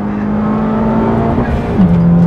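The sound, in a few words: Honda Civic Type R turbo engine revving on track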